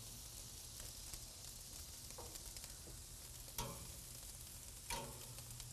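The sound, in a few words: steak and eggplant frying in a pan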